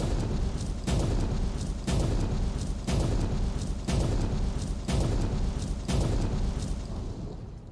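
Explosive charges in the mining game Out of Ore detonate one after another, seven heavy booms at roughly one-second intervals, each followed by a rumbling tail, loud and with no talk.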